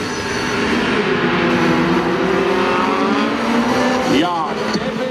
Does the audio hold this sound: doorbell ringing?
no